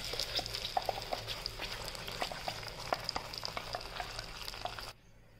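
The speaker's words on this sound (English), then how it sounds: "Now add the puree to it." Tomato puree hitting a hot pan for malai kofta, bursting into a busy crackling sizzle with sharp pops and spatters, close and steady until it cuts off abruptly near the end, no talking.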